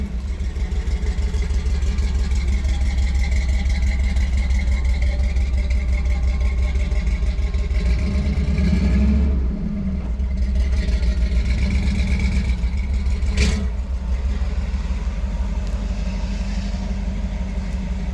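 Old Ford Bronco engine idling steadily at close range, a continuous low rumble holding for the whole stretch with a brief dip in the middle, no talking over it.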